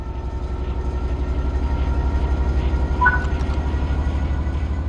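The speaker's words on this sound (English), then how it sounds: "Apply some throttle to get the train." Electric train in Train Sim World 3 pulling away under throttle as power feeds the traction motors: a steady low rumble with rhythmic wheel clatter, constant and close, plus a brief high tonal squeal partway through.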